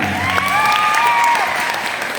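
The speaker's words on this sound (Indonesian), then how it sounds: "Tepuk tangan kita semua." Students at a school orientation anti-drug session with BNN Sleman burst into loud, dense applause for a couple of seconds, with a few thin tonal whistles riding over the clapping.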